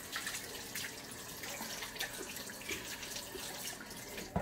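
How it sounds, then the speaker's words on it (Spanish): Warm tap water runs steadily over hands being washed in a kitchen while tamales de chipilín are prepared, a close, continuous splashing hiss with small bumps and drips. "Estar lavando las manos porque queda pegajosito por el, pues como le pongo el agua tibiecita."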